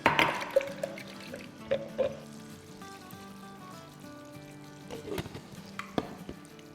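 Water poured into spice containers and rinsed into a cooking pot for dahi chicken, with liquid trickles and splashes, soft clinks and a few sharp knocks at close range.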